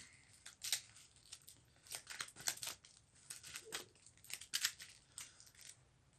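Tabletop wargame pieces are shuffled by hand during a solo game, giving quiet, scattered rustles, crinkles and small clicks in uneven bursts.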